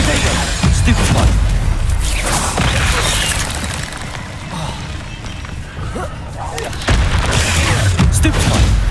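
Spell combat against spiders in Hogwarts Legacy, with Stupefy and other spells cast in quick succession: repeated booming impacts and crashing hits over a dense battle background, and a voice speaking in places.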